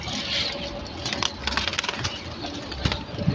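Pigeons flapping their wings close by, soft fluttering bursts and patters with faint cooing in the background, quiet and uneven over about three seconds.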